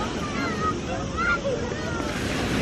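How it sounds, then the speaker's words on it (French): Small sea waves wash steadily at a beach shoreline on Ibiza, a broad continuous surf noise with wind buffeting the microphone and faint voices mixed in. "Il y a des petites vagues, il y a des vagues."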